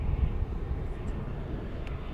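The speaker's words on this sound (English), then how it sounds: "An Airbus A319 on the horizon here." An Airbus A319 airliner passes far off on the horizon near DFW Airport at night, a faint, steady low rumble with no other distinct sounds.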